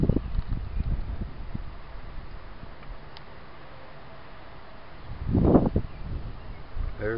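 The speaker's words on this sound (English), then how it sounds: "There's the wind." Wind blowing outdoors, a low rushing buffet against the microphone that swells at the start and again strongly near the end, otherwise a steady soft hiss.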